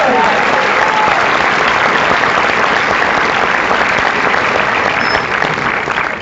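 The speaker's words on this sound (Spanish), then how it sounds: "Aplaude al Rey de Gloria." Church congregation applauding steadily and loudly for several seconds, a dense, continuous wash of clapping with faint voices mixed in, tapering slightly at the end.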